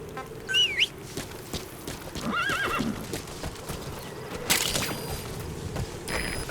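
A horse in the Metal Gear Solid V video game whinnies and neighs at the start, then its hooves clip-clop quickly at a gallop, a second neigh following midway, all fairly close with no talking.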